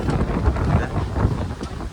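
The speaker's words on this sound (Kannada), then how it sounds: "ತುಂಬ ಗಾಳಿ, ಕ್ರೇಜಿ ಗಾಳಿ ಬೀಸ್ತಾ ಇದೆ ನೋಡಿ" Strong wind roars steadily across the microphone on Pamban Bridge, a loud low rumble with gusty buffeting throughout.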